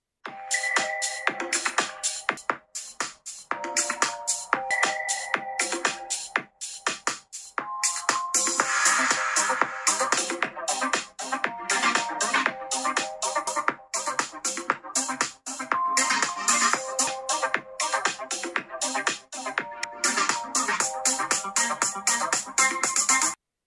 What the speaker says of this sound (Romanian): Samsung Galaxy Fold 4 vine cu difuzoare stereo și am pregătit o comparație tot cu iPhone 13 Pro pentru a vedea care se vede mai tare